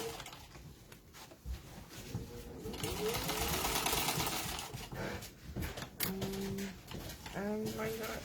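Sewing machine topstitching a fabric project, running in bursts of rapid mechanical stitching that start and stop, with short whirring pauses between runs, close up, while a person talks over parts of it.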